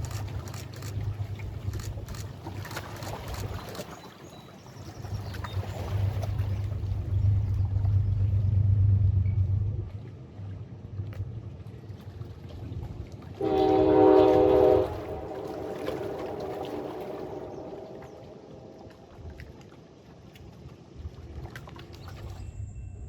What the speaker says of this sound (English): Another Metro North train is seen rolling by as it races north up the Hudson